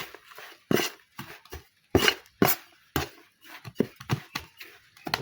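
Hands stir and turn potting soil for bok choy seedlings, giving irregular dry scraping and rustling bursts, close and fairly loud, with short pauses between strokes and no talking.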